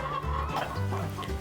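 Free-range hens on a farm cluck and murmur in overlapping low calls, a close, continuous flock chatter with no talk over it.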